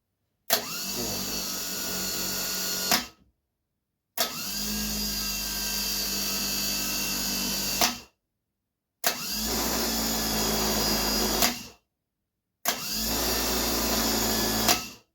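A repaired VAZ 2101-2107 starter motor runs on a test bench in four separate bursts of a few seconds each. Each burst is a loud, close, high whirring spin-up followed by a cut to silence.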